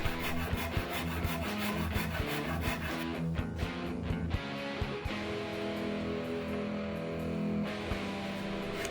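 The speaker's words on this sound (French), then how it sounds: "je finis au Pépite 80 avec une cale à poncer souple" Steady rasping rub of a soft sanding block on a wooden Telecaster electric guitar body, finishing with 80-grit paper; continuous back-and-forth strokes at close range, with no talking.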